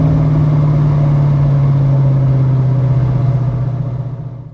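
A 1990 Ford Mustang LX coupe with a 5.0 V8 and automatic transmission cruising at highway speed, around 70 to 75 mph, gives a steady, loud engine drone with road rumble that eases off slightly at the end.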